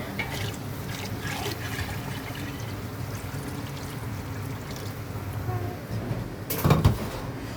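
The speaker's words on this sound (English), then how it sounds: "I'm just going to add a bit more water." Water is poured into a pot during cooking, a close, steady liquid splashing with a louder splash and clatter near the end.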